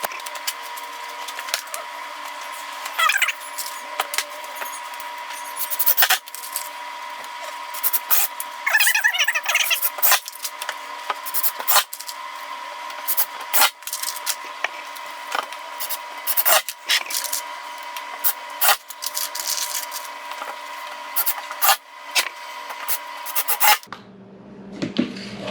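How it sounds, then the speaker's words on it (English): Plywood boards for a Halloween coffin being screwed together with a power drill, repeated bursts of whirring and rasping with short pauses between screws, fairly close and steady across the stretch, no talking. "So we're going to go down this side and we're just going to screw them all in."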